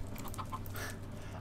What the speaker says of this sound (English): there's the baby chicken